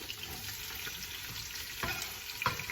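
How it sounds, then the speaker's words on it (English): Freshly cut leeks frying in virgin olive oil in a pot, a faint steady sizzle with a couple of soft stirring scrapes near the end. "So I'm going to put the leeks that I've just cut in with some virgin olive oil."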